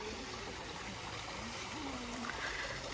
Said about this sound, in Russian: Такой искусственный водопадик